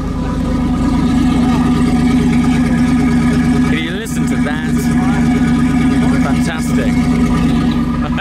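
A Chrysler V8 in a Phantom 8 boat idles with a loud, deep, steady rumble close by, while people talk excitedly over it.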